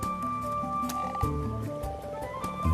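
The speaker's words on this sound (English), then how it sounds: "And the common frogs feel spring fever too." Low, repeated croaking of common frogs in spring, several overlapping in a chorus with short gurgling calls, fairly quiet and steady.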